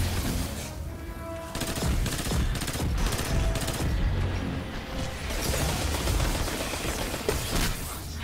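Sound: enemy boss gunfire bursts in the video game Destiny 2

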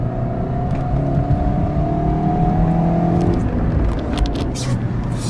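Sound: Lada Vesta engine revving with new spark plugs

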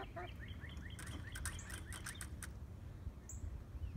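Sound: songbirds singing in the morning, including a cardinal

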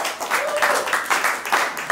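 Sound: audience applause

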